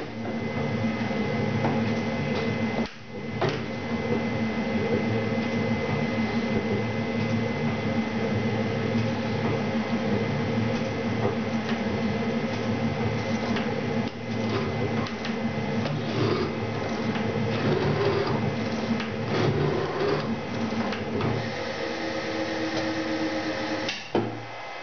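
A metal shaper driven by a variable frequency drive at about half speed, running as a steady, loud mechanical drone with a repeating clatter and a brief dip near the start, straining throughout.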